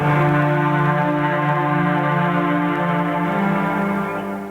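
Sustained layered musical tones of an outdoor sound garden composition in Vilas County hold a calm, drone-like chord that shifts gently, then fades slightly toward the end.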